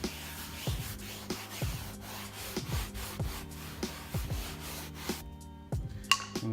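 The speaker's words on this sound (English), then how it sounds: "a lot of times, like these spots, I get agitated with a brush" A brush scrubs cleaning solution into carpeted stair steps in repeated back-and-forth strokes, each a close, coarse rubbing burst in a steady rhythm, with no talk.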